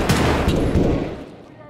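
Gunfire in Escape From Tarkov, a loud, close, continuous crackle of rapid shots that fades out toward the end, with a voice speaking over it.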